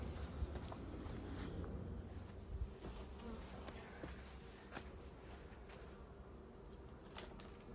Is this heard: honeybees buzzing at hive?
yes